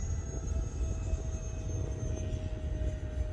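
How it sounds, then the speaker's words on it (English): An E-flite Conscendo Evolution RC plane flies overhead, giving a steady, continuous motor hum and whine that holds at an even level with no talking. "I'm letting the plane drop on its own to let it bleed speed"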